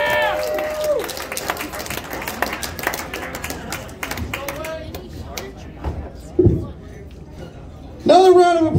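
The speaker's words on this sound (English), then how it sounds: "Another round of applause for you guys for coming out. Let me fucking hear it. Keep it going." Comedy club audience clapping and cheering across the whole stretch, a dense crowd wash with scattered whoops and shouts mixed in, then a louder burst near the end.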